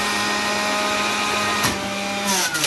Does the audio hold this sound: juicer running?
yes